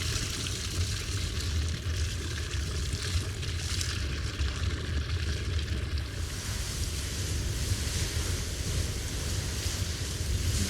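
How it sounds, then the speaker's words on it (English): Water drains back into a geyser, continuous gurgling and splashing with a hissing, fizzing texture, moderately close and steady, mixed with light wind. "you can hear the water draining back into the geyser."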